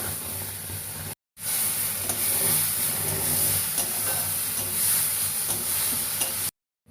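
Turmeric and tomato puree masala fries in a pan with a steady sizzling hiss while it is stirred, broken by two brief silent gaps. No one talks over it.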